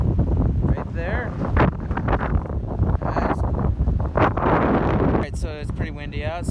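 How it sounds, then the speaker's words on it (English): Gusty wind buffets the microphone outdoors beside a rented excavator at a dig site, a loud rumbling roar running through the whole clip under near continuous talking. "it's pretty windy out"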